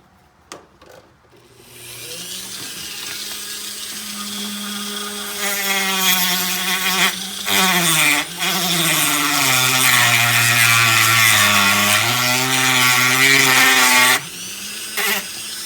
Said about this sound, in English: Sometimes a sanding drum or a grinding wheel, whatever you want to use.